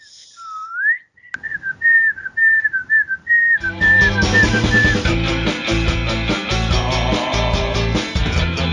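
Someone whistles a wavering tune alone, then loud music with drums kicks in and the whistling continues faintly beneath it.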